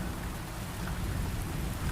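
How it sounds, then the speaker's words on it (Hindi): Heavy rain pours steadily around huts in a cartoon village, with a dense, continuous hiss and low rumbling of thunder beneath it, loud and unbroken throughout. "और वही बारिश बिजली के साथ बहुत तेज बरस रही है।"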